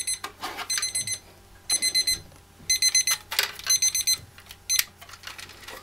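An alarm clock rings loudly nearby in repeated bursts of shrill electronic beeping, with several pulses separated by short pauses and no voices.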